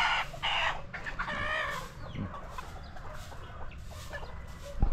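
A red junglefowl rooster clucks nearby on a farm, giving repeated short calls with a few louder, drawn-out notes over faint outdoor background noise and no talking.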